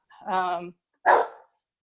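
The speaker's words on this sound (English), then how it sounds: "I don't know whether you hear a barking dog." A dog barks indoors during a call: a drawn-out, tonal bark followed by a sharper, noisier one, both close and fairly loud, with silence between.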